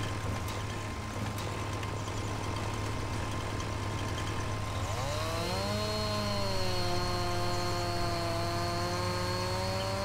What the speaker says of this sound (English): Get the chainsaw